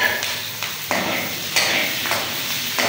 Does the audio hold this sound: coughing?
no